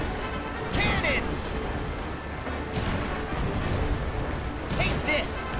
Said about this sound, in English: Hey, cannons! Fire!